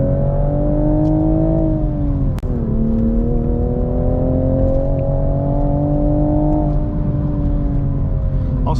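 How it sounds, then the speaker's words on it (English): A Toyota Supra with a manual gearbox and turbo pulls in second gear around 3,500 rpm up a mountain pass, its engine a loud, steady drone that rises slightly in pitch under gentle throttle. "I rolled into the throttle on that pass"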